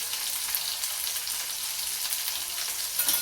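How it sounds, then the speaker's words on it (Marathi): Cluster beans (guar) sauté in a hot pan for a Maharashtrian rasa bhaji, giving a close, continuous hiss of sizzling oil with faint stirring scrapes and no talk. "आता अशी मस्त गवार परतून घेतली।"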